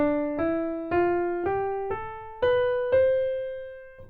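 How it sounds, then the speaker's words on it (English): A major scale on a pitched, piano-like instrument, eight single notes stepping upward one after another at an even pace, each ringing and fading, clear and alone. "The major scale is the one that's the most familiar to us,"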